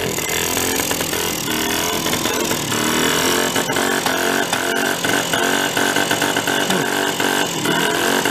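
A broken scooter engine runs steadily and loudly close by, a rough buzzing drone with uneven sputtering throughout, continuing without pause and with no talk over it.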